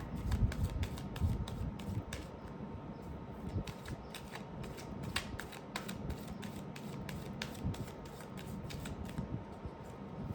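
Tarot cards being shuffled for a reading make a rapid series of crisp riffling clicks and flutters, close and fairly quiet, repeating steadily with no talk.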